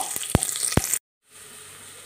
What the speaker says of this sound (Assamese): আৰু মই এফালে দালি ভাজি আছে